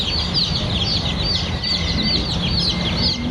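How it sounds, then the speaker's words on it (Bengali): Sonali super hybrid chicken chicks on a farm peep constantly in a thick, high-pitched chorus, close and unbroken, with no voices. "দেখতে পাচ্ছেন সোনালি সুপার হাইব্রিড মুরগির বাচ্চা"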